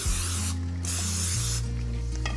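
A steady aerosol cooking spray hisses onto cake pans in a couple of long bursts, close up, with a brief pause between them and no talking.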